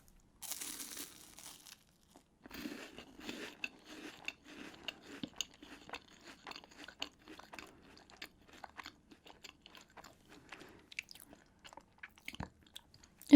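Close, crisp biting and crunching into a hazelnut-filled wafer snack with a soft chocolate hazelnut center, from Serbian and Croatian treats, followed by steady chewing with rapid crackling bursts and short pauses, no talking.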